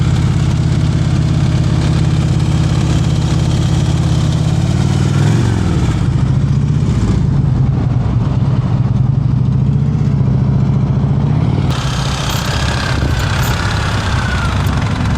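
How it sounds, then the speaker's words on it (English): Motorcycle engine idling and rumbling steadily during slow-speed riding practice, close and loud, with small throttle blips and a brief rise in revs near the end. "Throttle sounds really good."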